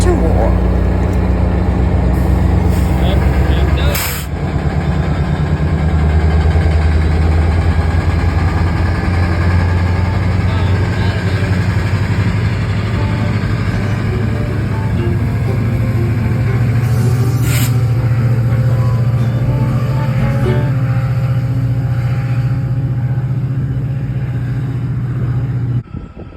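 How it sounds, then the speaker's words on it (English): Diesel train engine roaring at a Washington Metro area station, a loud continuous low rumble that holds steady throughout, with a couple of brief sharp clanks. "Then the diesel engine started to roar."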